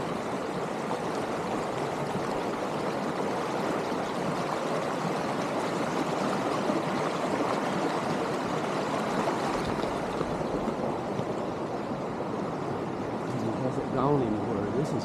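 The Mayo River flows steadily with a broad, continuous rushing wash that holds at an even level throughout, a faint thin trickle rising briefly near the end.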